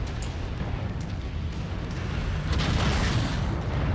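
Missiles explode in MechWarrior 5 as a dense, continuous rumble of booms and blasts, loud and close throughout, with no speech.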